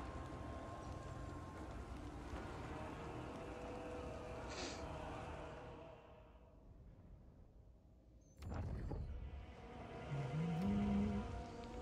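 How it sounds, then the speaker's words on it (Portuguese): Steady game rain ambience from Total War: Warhammer 3, a dense hiss of falling rain that fades out near the middle, then returns with louder low rumbles and swells toward the end. "Som de chuva, ASMR."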